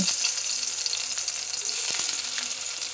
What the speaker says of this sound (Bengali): কেটে রাখা রসুন, আদা কুচি দিয়ে একটু ভেজে নেব।